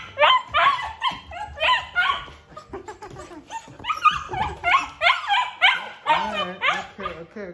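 A dog whimpers and barks repeatedly in close, excited yips and whines that rise and fall in rapid bursts, with a person speaking at times.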